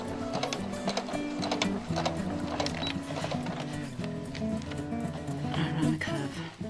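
A sewing machine runs continuously as apron fabric is guided through, giving a busy rhythmic mechanical chatter close up, with a voice faintly present underneath.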